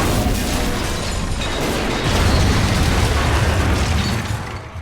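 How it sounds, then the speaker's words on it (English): Explosions from the video game Mass Effect 2: dense, sustained booming roar with rumbling low end, continuous and loud throughout without a break, no voices. "They explode?"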